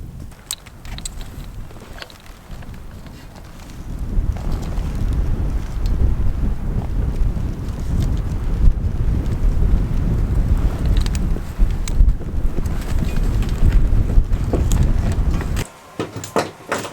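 Freezing winter storm wind buffets a heated tent, a low roaring rumble that gusts and surges, growing louder after a few seconds and dropping briefly near the end.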